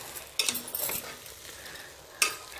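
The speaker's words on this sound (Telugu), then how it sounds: "కొత్తిమీర వేసేసుకొని మళ్ళీ ఒకసారికి శుభ్రంగా ఒకసారికి చక్కగా కలిపేసేసుకోండి" Stirring jackfruit brown rice biryani with fresh chopped coriander in a pot: soft scraping and a few light clinks of a spoon against metal over a faint sizzle, fairly quiet.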